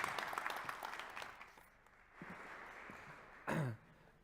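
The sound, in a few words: warm round of applause for a speaker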